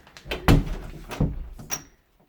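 A door shut during a children's story reading of the three little pigs, heard as a couple of dull thuds followed by a brief rattle and click, fairly close and fairly loud with no talk over it.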